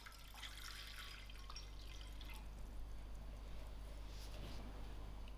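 Water is poured into a thick-based saucepan on medium heat, a faint trickling and dripping splash against a steady low hum of room noise, with no one speaking.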